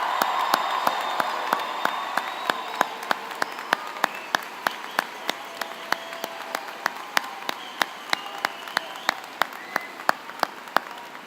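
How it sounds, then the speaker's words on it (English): A high school graduation audience applauds the class of 2016: a long, steady wash of dense clapping lasting over ten seconds, with scattered sharper individual claps and faint cheers mixed into the crowd noise. "can we have one thunderous applause for our class of 2016"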